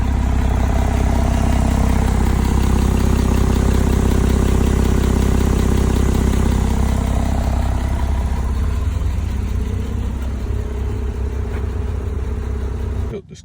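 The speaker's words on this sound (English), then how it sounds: "Started up, and that's the dual exhaust." A 2019 Porsche 911 Carrera idles steadily through its dual exhaust, a close, loud, even engine rumble with a deep low throb that holds the whole time before cutting off abruptly at the end.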